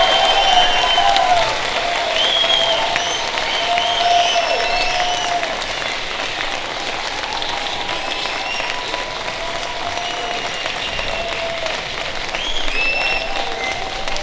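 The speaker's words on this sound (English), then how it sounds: "let's give Mr. Carlsen a big round of applause" Sustained audience applause at a 2019 time capsule ceremony, with steady clapping from a crowd that slowly tapers and swells again, plus a few faint cheers.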